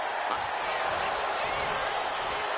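Video game wrestling crowd in WWE 2K26 cheering steadily throughout a match, a dense, constant roar of arena noise with no distinct breaks, loud and filling the whole clip.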